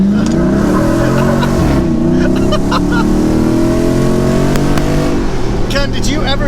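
Hemi-swapped Jeep JL on 37-inch tires accelerating hard into second gear, breaking the tires loose, with a loud, continuous engine roar and rising pitch sweeps close by.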